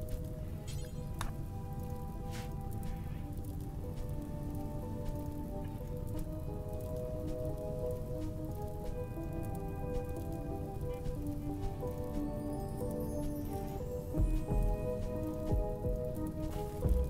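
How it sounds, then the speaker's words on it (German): Rain in the RimWorld video game falls as a steady, even patter that persists throughout, layered with soft tonal game music and no talk. "Deswegen bin ich mir so sicher, dass es gleich anfängt zu regnen."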